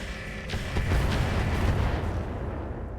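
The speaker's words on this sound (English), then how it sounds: "They're firing on the Crusader." Drones firing weapons at a mech in the video game RogueTech, a rolling barrage of booming artillery-like blasts that swells and holds, loud and close with no talk.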